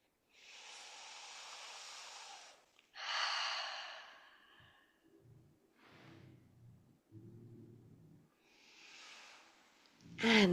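Calm, audible breaths during a yoga quadricep stretch, with several long airy inhales and exhales separated by quiet gaps and some low soft sounds of movement, ending in a sudden louder rustle.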